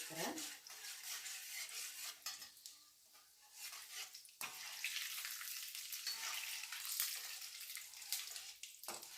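Chana dal and lentils frying in a pan as they are stirred, a steady hiss of sizzling oil with scraping and clinking of a utensil against the pan, close by with no talk.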